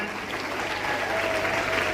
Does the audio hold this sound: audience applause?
yes